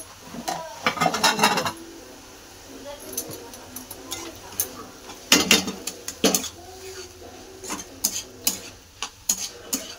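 Vegetables with onion-garlic masala are sautéed and stirred in a pan, giving irregular clinks and scrapes of a utensil against metal over a faint sizzle, with a voice speaking at times.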